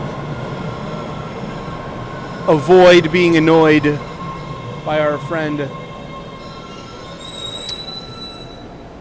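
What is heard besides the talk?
subway train riding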